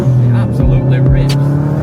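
Audi S3 8V with a straight pipe exhaust revs loudly up close, a steady deep drone with a couple of sharp throttle blips rising and falling.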